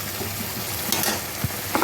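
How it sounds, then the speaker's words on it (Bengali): Potol chingri, pointed gourd with prawns, being stirred in a pan with a steady low sizzle and a few scraping strokes of the spoon, close and moderately loud, no voices. "এবার এটাকে আমি পুরো নেড়ে নিলাম।"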